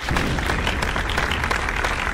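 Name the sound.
applause sound effect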